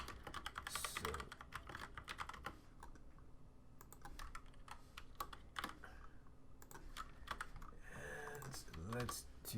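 Computer keyboard typing while writing Python code: dense runs of quick clicky keystrokes with brief pauses, close and steady throughout, with a single short spoken word near the end.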